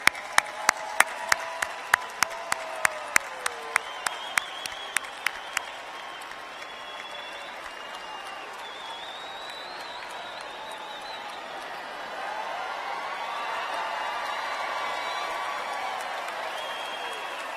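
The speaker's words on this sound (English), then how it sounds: "Graduates, please rise, and a round of applause for your family and friends." At an undergraduate commencement ceremony, graduates clap for their families and friends: crisp, fairly rhythmic clapping for several seconds gives way to a steady hall murmur of the crowd.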